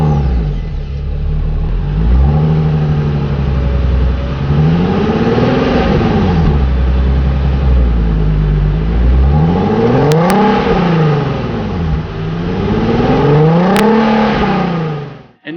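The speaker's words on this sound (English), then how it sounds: "Here's some revs for you." Engine of a 2015 Infiniti Q60S revved repeatedly while parked, loud and close, with several rising and falling sweeps of revs over a steady idle, no talking.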